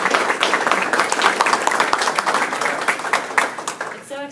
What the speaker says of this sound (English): Can we give our panelists a little bit of applause?